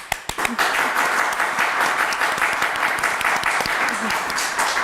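An audience at a TV quiz show claps in sustained, dense applause, loud and close, with a voice briefly heard under it.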